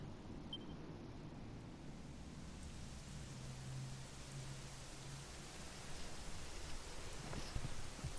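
Soft steady rainfall in the video game Dragon Quest XI hisses in the background, faint and even, with an occasional low hum and no voices.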